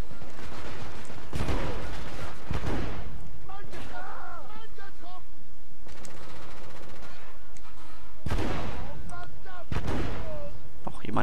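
Heavy gunfire in The Order: 1886 during a Blackwall shipyard level, with loud bursts of rapid automatic shots and booming reports separated by short lulls, while a player's voice talks over it.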